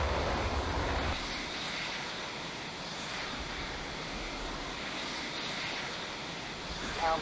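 A fighter jet in the flight sim Falcon 4 Allied Force spools up for takeoff, a steady broad engine roar that dips after the first second and then holds level, with no voices over it.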